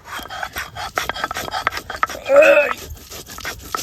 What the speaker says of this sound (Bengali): আজকে কিন্তু প্রফেশনালভাবে শিল নোড়া নিয়ে আর আজকে কিন্তু এই মশলাটা টোটালেই বেটে নেব